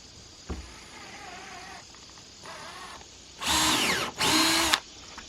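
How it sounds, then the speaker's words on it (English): A power drill whirs in two short, loud bursts about a second each, close by, pre-drilling wood while building a front porch, with quieter workshop noise before them. "I'm going to pre-drill once on the side here."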